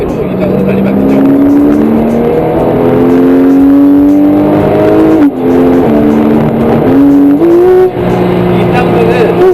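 A Porsche 911 (991) Carrera S engine revving loudly while driving on a road, its pitch climbing and falling through the gears in steady musical sweeps across the whole stretch.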